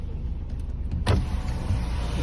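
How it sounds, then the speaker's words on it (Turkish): A car's power window motor whirs briefly while the window opens, a short close hum standing out against the quiet idle of a car stopped beside the curb during parallel parking practice. "Şu anda camımızı açalım."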